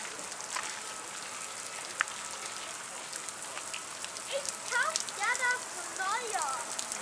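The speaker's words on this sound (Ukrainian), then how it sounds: "І ось з гори. краплі спадають сюди і тут охолоджуються." Water drips and trickles steadily down from a hillside into a pool at Bad Nauheim, making a constant rain-like patter heard close by, with someone speaking quietly over it for part of the time.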